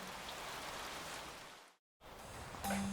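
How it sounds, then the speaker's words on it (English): Steady rain falling during a car restoration, a broad even hiss that drops out briefly near the middle before resuming, with a faint tonal hum toward the end. "And it's raining."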